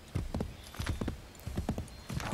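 A horse's hooves clip-clop in a quick, uneven rhythm through forest in Assassin's Creed III, several sharp close thuds in bursts, with a faint whinny near the end.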